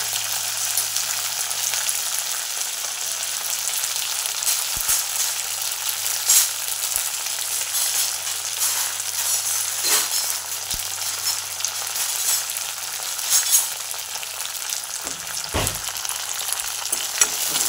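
Fresh fenugreek leaves drop into hot oil tempering with green chili and asafoetida, giving a loud, continuous sizzle and hiss with a few sharp spatula clicks and stirring scrapes, close up and with no talking.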